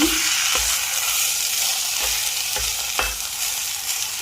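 Store-bought nam ngiao chili paste stir-fried with pork in a pan, a steady broadband sizzle with periodic scraping strokes of the utensil roughly every half second to second, close and loud, no voices.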